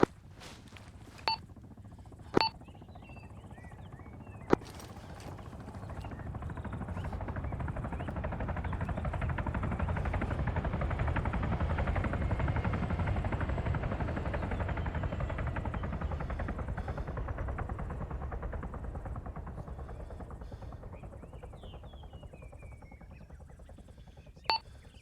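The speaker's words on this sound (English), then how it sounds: "Charlie's got a helicopter southeast." A helicopter passing in the distance during an outdoor military squad training exercise, a low rotor rumble swelling to a peak midway and fading away, with a few sharp radio beeps and no talk.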